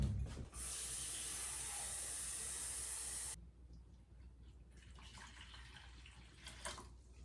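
A tap runs in a steady hissing stream for about three seconds, filling a measuring cup up close, then shuts off, leaving faint room noise.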